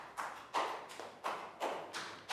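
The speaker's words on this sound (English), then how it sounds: "Big round of applause for Net." A small group of pupils in a Year 4 maths class give a round of applause, producing about six distinct bursts of claps in quick succession, fairly faint and close, with no talking.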